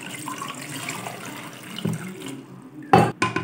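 Water splashing and pouring into a metal pressure cooker, a soft steady trickle followed by a couple of louder splashes near the end.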